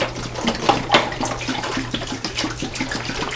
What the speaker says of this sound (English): We're going to pour it in here.